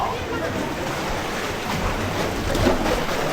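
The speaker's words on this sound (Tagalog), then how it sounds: "Malakas yung alon." Strong ocean waves wash around a boat during island hopping off Boracay, a constant close, rushing surge with wind buffeting the microphone.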